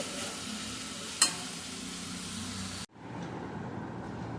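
Chicken salad is tossed and mixed in a bowl, a steady close, hissy rustling with a sharp clink partway through before cutting to a quieter rustle.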